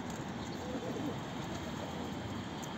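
Domestic pigeons coo softly in a coop, a faint low murmuring under steady background hiss, with no speech over it.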